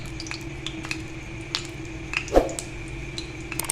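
Frozen shami kebabs frying in moderately heated oil on a tawa, a soft steady sizzle punctuated by occasional clinks and scrapes of a utensil against the pan.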